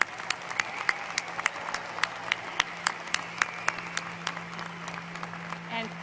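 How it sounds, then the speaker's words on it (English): Steady applause for graduate students at a university commencement ceremony, sounding like a large audience clapping at a moderate distance, with sharp individual claps standing out above the general patter under a low hum. "one more round of applause for our graduate students"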